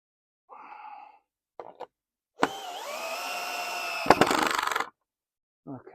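A power screwdriver drives a screw into a fence base, whirring steadily for a couple of seconds with a rising whine, then rattles and stops, preceded by brief shuffling handling noises.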